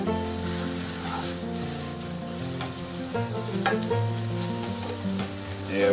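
Spinach seasoned with salt and pepper cooks in a pan on the stove, a continuous close sizzle broken by soft stirring clicks, with a low steady hum behind it.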